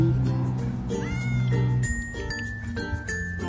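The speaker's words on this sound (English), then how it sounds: "Oh, and I love your meow." A cat meows several times in a row, close and clear, with drawn-out rising and falling cries.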